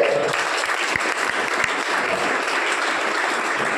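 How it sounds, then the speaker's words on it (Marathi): An audience clapping steadily at a speech competition event, dense sustained applause from many hands filling the hall, with faint murmuring underneath. "हळूहळू का होईना पण तुम्ही टाळ्या वाजवताय"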